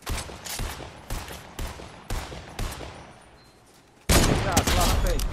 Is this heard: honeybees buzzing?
no